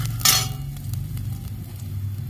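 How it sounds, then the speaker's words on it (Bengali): Mustard seeds, cumin and ginger frying together in hot oil, a loud burst of sizzling as they hit the pan, then a steady crackle and hiss, close up and with no voices. "সব একসাথে আমি একটু ভেজে নেব।"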